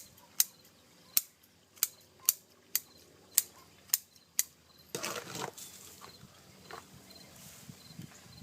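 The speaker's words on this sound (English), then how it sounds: "So nice clean cuts on these root tips." Sharp root shears snipping bonsai root tips, about eight crisp, evenly spaced clicks close up, followed by quieter rustling handling.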